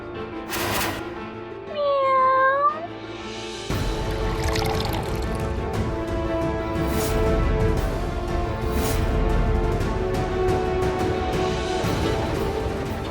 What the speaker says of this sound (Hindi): बाहर कोई बिल्ली भूखी है।